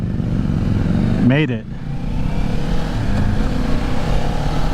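A 2024 Kawasaki Ninja 500 motorcycle engine runs steadily close by as it is ridden, with a brief rising then falling rev sweep partway through; a rider speaks briefly over the engine.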